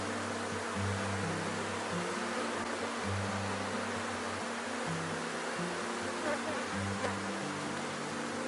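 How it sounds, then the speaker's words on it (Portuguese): A honeybee swarm hums at the hive, a dense continuous buzz that stays loud and close throughout with only slight wavering and no voices. "Muito top o enxame."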